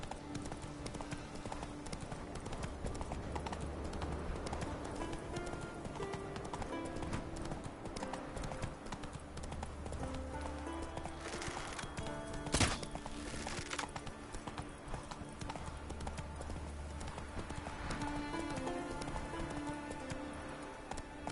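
Hooves of the horse Roach galloping in The Witcher video game, a steady rapid clip-clop rhythm over game music and ambience, with a brief louder impact midway.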